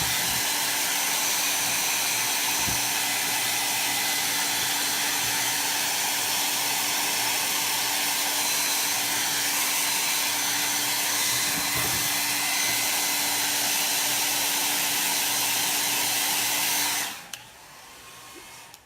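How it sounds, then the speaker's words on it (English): A hair dryer blowing steadily over a freshly applied chalk transfer, a loud continuous close whoosh and whine that runs unbroken for several seconds before abruptly switching off near the end. "I'm gonna blow dry it really quick just to make sure"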